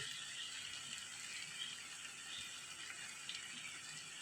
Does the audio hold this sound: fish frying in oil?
yes